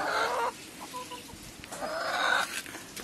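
Farm chickens on a rooftop beside a small garden cluck in a couple of short bursts, fairly close and moderately quiet, with brief quieter gaps between.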